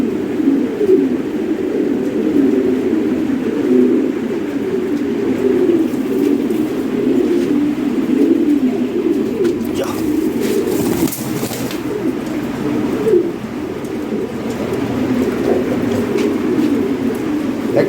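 Many Lahori Sherazi pigeons coo continuously in a low, rolling chorus, close and steady throughout, with a brief clatter of movement in the middle.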